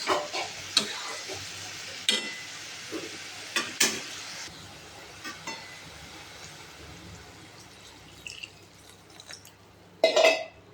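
Bottle gourd curry with chillies is stirred in a pan, a quiet low sizzle broken by several sharp scraping and clattering strokes spread across the stretch, ending in a louder burst of stirring; no voices.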